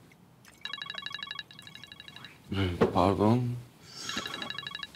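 A telephone rings with a repeating electronic trill in short bursts, stopping briefly while a voice speaks over it, then resuming after.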